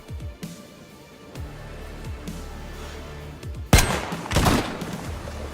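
Gunfire in the video game DayZ: a few muffled distant shots pop early, then a loud close burst hits near the end, with rough echoing crackle trailing after, and no speech.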